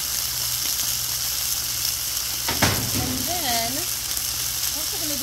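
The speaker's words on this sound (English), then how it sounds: "So I'm going to go ahead and do some mushrooms. I've got some leftover marinated artichoke hearts." Mushrooms and marinated artichoke hearts sizzle in oil on a Blackstone griddle, a steady close hiss with a brief clatter midway and someone speaking over it.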